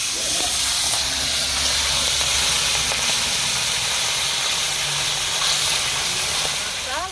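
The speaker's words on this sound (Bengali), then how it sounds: "গরম হয়ে গেছে এবার মাছগুলো ঢেলে দিলাম" Amudi fish rubbed with salt and turmeric sizzle loudly in hot oil, giving a dense, steady hiss that continues unbroken from start to finish.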